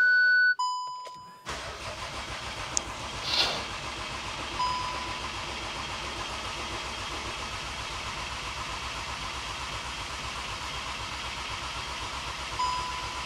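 A few beeps, then the 2.0 TDI diesel engine of a Skoda Octavia vRS with 287,000 km cranks over and over with a steady rhythmic churn, close and loud, without catching.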